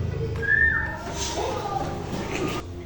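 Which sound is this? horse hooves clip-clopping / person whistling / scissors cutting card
person whistling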